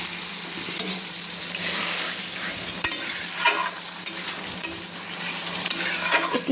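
A chicken and potato curry sizzles loudly in the pan and is stirred with a spoon that gives occasional sharp clicks. The frying hiss stays steady and close throughout, with no voice.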